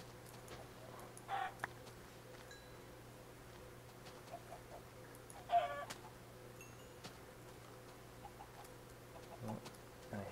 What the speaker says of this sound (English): let's find some of those chickens